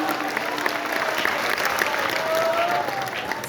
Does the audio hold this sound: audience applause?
yes